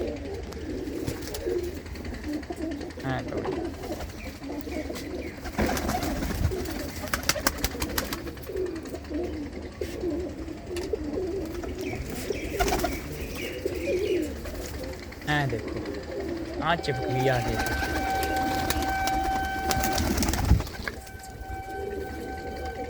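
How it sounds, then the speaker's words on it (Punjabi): Domestic flying pigeons settle onto a perch at a fancier's home, cooing softly amid rustling and wing shuffles, while nearby people talk intermittently and a sustained tonal whine cuts in late. "ਇੱਧਰ ਬੈਠ ਗਏ ਕੁਝ ਆ ਗਏ ਕੁਝ ਕਬੂਤਰ"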